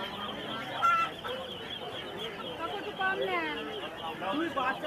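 Ducks and Chinese ducklings at a busy animal market give repeated honking, quacking calls, close and fairly loud, over steady crowd chatter and people talking.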